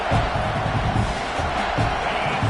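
A dense stadium crowd roars and cheers steadily in a College Football 26 game against Texas A&M, a loud, continuous wall of noise with swelling bursts throughout.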